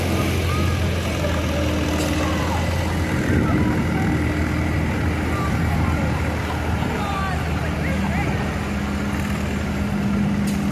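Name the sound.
1936 Huber tractor engine pulling at a tractor pull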